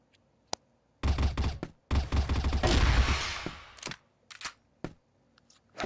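Gunfire in a CrossFire pro league match from CFEL 2017: long bursts of rapid automatic fire, then scattered single shots and clicks fading out in the gaps, with no voices.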